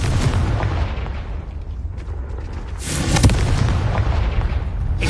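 A Confringo blasting spell explodes in Hogwarts Legacy, a loud, dense booming burst that rumbles throughout and swells again into a second heavy blast about halfway through.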